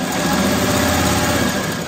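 A sewing machine stitches freeform fabric blocks, a steady loud mechanical whir with a fast even pulse running without a break, close up.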